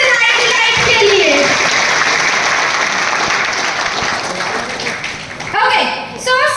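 An audience at an indoor beauty product presentation breaks into loud, sustained applause that slowly fades, and a few voices come through as it dies down.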